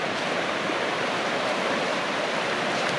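Steady broadband rush of a river flowing in Vermont's Green Mountain National Forest, continuous and fairly loud, with no talking.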